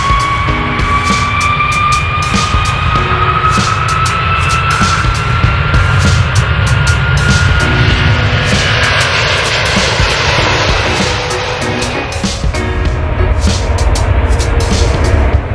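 An airplane's engines roar loud and steady during the takeoff run, a continuous heavy drone with rising whine and rumble, close and unbroken throughout.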